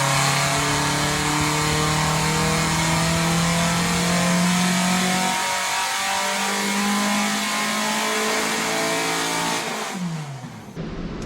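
A 400 cubic inch flat-4 engine, cast in a home foundry, revs hard and loud with a steady high-pitched roar, dipping once and climbing again before cutting off abruptly near the end.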